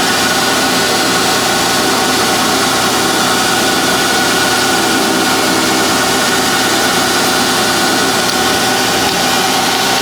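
A toolpost grinder mounted on a lathe grinds the outside of a workpiece, a loud, steady mechanical drone with a constant motor hum and faint gritty texture, running without a break.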